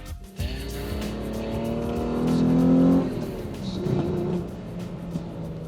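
Mitsubishi Magna Ralliart V6 engine revving hard from inside the car, climbing steadily to a loud peak before easing off and settling into a lower drone.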